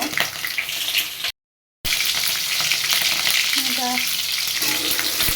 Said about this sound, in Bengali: মিষ্টি কুমড়ো আর সজনের ডাটা আলুটা ভেজে উঠে নেব